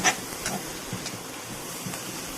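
Chopped onions frying in oil in a pan for an okra fry, giving a steady soft sizzle and hiss throughout with a few faint clicks, no voices.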